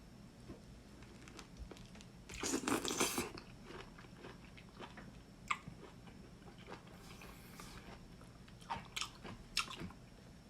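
Crisp bites into lime or grapefruit, with a loud crunchy burst early on followed by scattered softer chewing clicks and wet mouth sounds, close and alone.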